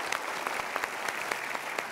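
A crowd claps steadily in dense, continuous applause with no talking over it.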